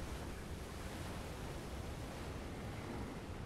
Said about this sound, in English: the sea state is wow, look at those waves